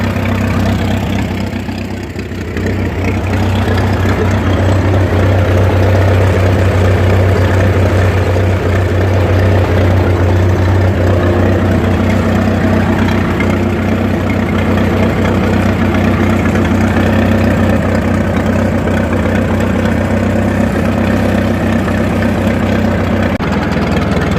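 A heavy old Farmall Regular tractor engine runs steadily with a deep, throbbing low rumble, loud and close, holding a constant chugging idle throughout.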